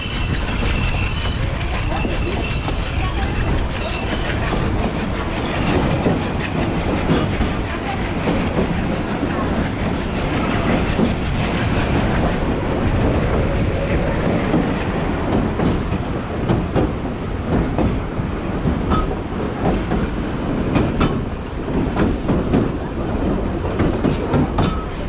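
A Peruvian passenger train running from Puno to Cusco rumbles steadily and loudly throughout, with continuous wheel and rail noise, occasional squeals, and wind in an open observation car.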